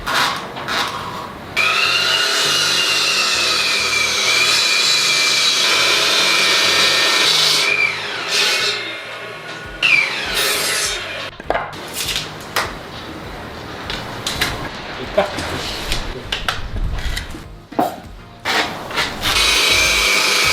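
Hand saw cutting diagonally through a wooden board to make a homemade garage car ramp, a steady loud rasping with repeated strokes, then breaking into shorter choppy scrapes and pauses near the end.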